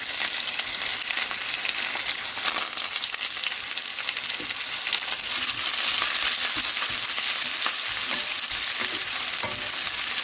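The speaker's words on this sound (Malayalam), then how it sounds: "ഇത്രയും ചെറിയ ഉള്ളി അതൊന്ന് നന്നായിട്ട് ഇളക്കി കൊടുക്കുക" Small red onions being stirred in a hot pan while making lemon pickle, a loud, steady sizzle of frying with continuous scraping and stirring throughout, no voices.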